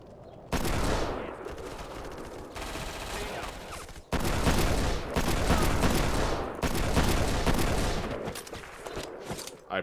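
Dense, loud gunfire from the video game Black, sustained bursts of automatic weapons with brief gaps, continuous close shooting filling the whole stretch.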